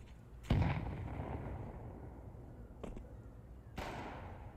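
A grenade goes off in a Counter-Strike 2 match on Mirage: one sharp, heavy blast at close range, followed by two smaller gunfire-like bursts over a steady game background.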